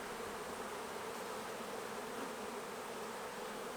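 Honey bees buzzing in an open hive during frame inspection, a dense, continuous droning hum from many bees close by, steady and unbroken with no talk.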